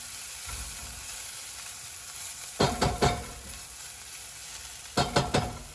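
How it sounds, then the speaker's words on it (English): Red pepper, ginger and garlic sizzle softly in a hot pan for a healthy Asian chicken noodle dish, with a steady fry broken by two clusters of sharp scraping stirs from a utensil. "Cook that for about a minute or 2 until the garlic starts to brown"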